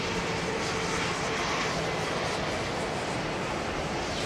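Older jet airliner with its gear down, arriving at London Heathrow, making a steady, fairly loud broadband engine roar that stays level throughout, with no talk.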